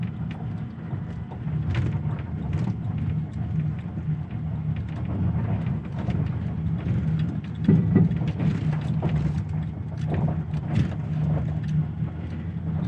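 A 1995 Dodge Ram 2500 with a V10 engine rolls slowly off-road without throttle or brakes, giving a steady low rumble and rough crunching of terrain, with occasional louder bumps and knocks.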